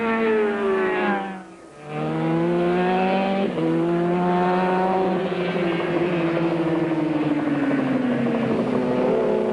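A Honda superbike screams around Phillip Island circuit during a 1989 Australian superbike race, its loud, high-revving engine note rising and dropping through gear changes, with a brief dip as it backs off for a corner.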